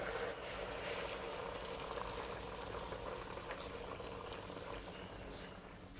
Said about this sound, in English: Stand a little bit further away and add in hot water. Just enough hot water to cover the pork.